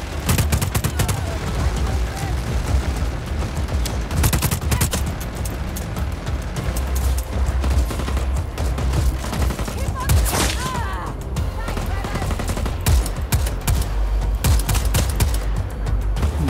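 Dense, continuous gunfire in the open-world action game Just Cause 4 rattles in rapid bursts with booming hits, loud and close throughout and barely pausing.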